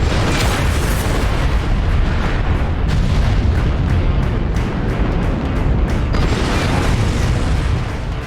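Weapon fire in MechWarrior Online, a Marauder mech game, comes as loud, dense, rapid booms and blasts layered over one another in a sustained barrage.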